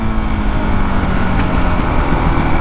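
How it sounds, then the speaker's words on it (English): A cold Honda CRF450RL dirt bike engine runs loud and close, its steady rumble broken by faint irregular pops as the throttle is let off during deceleration. "it still has the tendency to pop on decel, especially when it's cold out like this"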